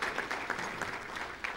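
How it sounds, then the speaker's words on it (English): Brief, fairly faint applause from a meeting audience for board members at a district address, scattered claps merging into a steady patter. "So if you can give a round of applause to the board members"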